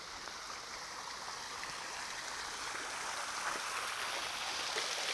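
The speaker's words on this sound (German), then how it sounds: "Ich zeige euch mal den Brunnen." Fountain in the palace garden of Schlosspark Rosenau, with water splashing in a continuous, even hiss that stays steady and fairly close throughout.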